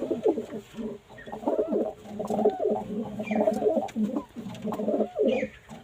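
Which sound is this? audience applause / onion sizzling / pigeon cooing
pigeon cooing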